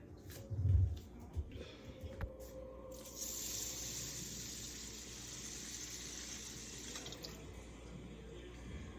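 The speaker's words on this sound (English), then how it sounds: "I'm going to fill this up to here with water." A few handling knocks, then water runs steadily from a tap into a rice pot, a continuous rushing fill lasting several seconds.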